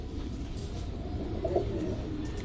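A Giribaz pigeon gives a brief, soft coo partway through, over a steady low rumble of background noise.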